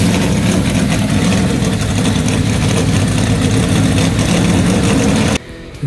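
Race car engines at the Dover Monster Mile, a loud, sustained roar of revving and idling motors filling the scene before cutting abruptly near the end.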